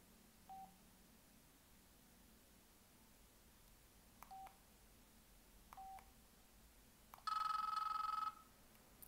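A ringtone from a Samsung N270 Matrix mobile phone from 2003, styled after the film: short, faint electronic tones at intervals, ending in a longer, louder sustained melodic burst of about a second.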